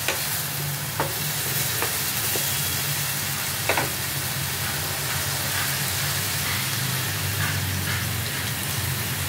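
Soft continuous sizzle of turmeric frying in a pan with oil and salt, with a few light scraping stir strokes over the crackle, fairly quiet and no voices.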